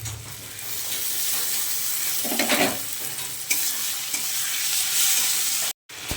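Grated onion, ginger, garlic and tomato masala fries loudly in hot oil for a crab curry, a continuous close sizzle with stirring scrapes and a brief cutoff near the end.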